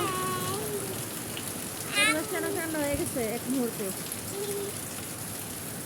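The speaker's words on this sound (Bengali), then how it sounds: "খুব সুন্দর বৃষ্টি, অনেক ভালো লাগতেছে।" Steady rain falling, with a dense, even hiss that continues throughout while a person talks over it in a relaxed voice.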